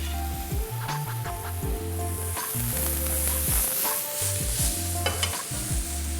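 Garlic and mushrooms sizzling in a pan give a steady, close frying hiss with crackles, over a constant low hum. Louder spits come through now and then, and nobody talks.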